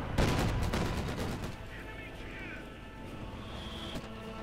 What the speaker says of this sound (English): getting stopped here by a variety of machine guns and other things